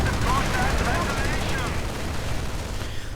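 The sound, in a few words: gunfire from Rangers and LMG in a strategy video game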